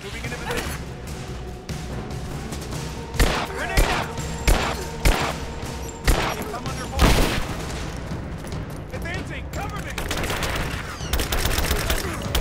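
A firefight in Rise of the Tomb Raider, with bursts of rapid gunfire and several heavy, distinct shots punching through the middle, shouting voices mixed in.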